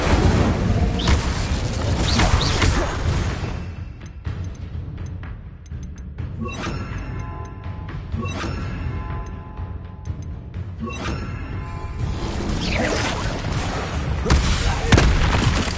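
Incendio fire spells being cast in Hogwarts Legacy, a dense run of loud fiery bursts and booms layered over continuous game music and effects, with no pause between them.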